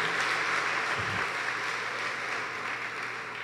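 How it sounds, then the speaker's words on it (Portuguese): Church congregation applauding during a family worship service, a brief dense burst of many hands clapping that holds steady and fades slightly at the end. "Uma salva de palmas para o nosso Deus."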